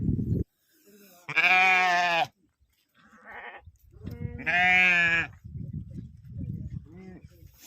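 Sheep and goats bleat in two long, loud wavering calls close by, separated by quiet gaps, with shuffling and livestock noise around them.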